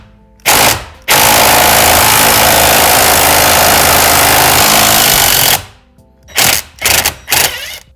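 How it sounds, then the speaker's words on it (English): Impact wrench with a 10mm Allen head removing a Civic Type R steering wheel bolt, heard as one loud, close, continuous hammering rattle of about four and a half seconds, followed by several short bursts. "put a link in the description to this exact impact wrench"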